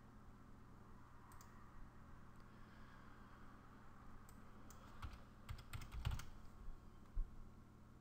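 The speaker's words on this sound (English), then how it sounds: "let me just type this in" Keys clatter on a computer keyboard while someone works in WordPress, with soft, uneven typing that builds into a quick flurry of louder clicks near the end over a steady background hum.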